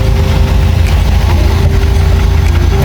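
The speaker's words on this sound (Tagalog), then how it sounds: "Medyo traffic lang po." Steady low engine rumble from inside a moving vehicle, with faint surrounding road traffic noise on the way to Marikina; a continuous, loud hum with no clear individual passing cars.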